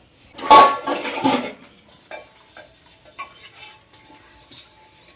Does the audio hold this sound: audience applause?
no